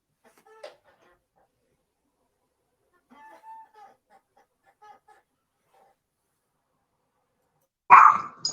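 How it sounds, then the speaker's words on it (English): A dog barks in the background of an indoor setting: a short faint bark, a few scattered quieter yelps, then a loud, close burst of barking near the end. "the dog is barking up a storm"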